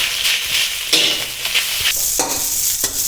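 Chinese sausage fried rice being stir-fried in a pan: a close, steady sizzle broken by repeated scraping and tossing strokes of the spatula, with no talking.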